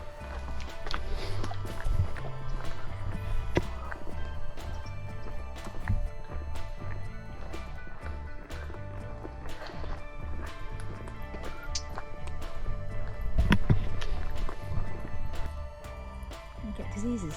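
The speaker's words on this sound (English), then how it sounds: "Hello, little horse." Horse hooves clip-clop in an uneven stream with sharp knocks scattered through, close by and steady, while people talk over much of it.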